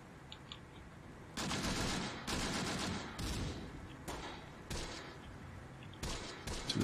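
An artillery barrage and gunfire in the tactical war game Close Combat: The Bloody First roll in as repeated loud, dense bursts, each lasting about a second, separated by brief lulls over a faint background rumble.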